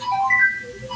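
A telephone ringing during a home interview, a short electronic tone warbling between two pitches, moderately loud over low room hum, no voices.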